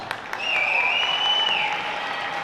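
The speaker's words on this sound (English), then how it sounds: "Please help us in recognizing these exceptional staff members with your applause." Spectators at a girls' varsity basketball game applaud school staff members in a short, moderately loud burst of clapping, with a sustained whistle-like tone cutting through the crowd noise.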